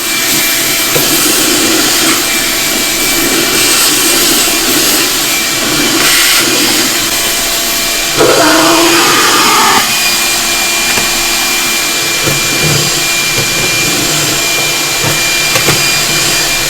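A vacuum cleaner runs steadily and loudly throughout during a 1969 Lincoln Idealarc 250 welder restoration, a constant broadband whine with a brief change in tone partway through.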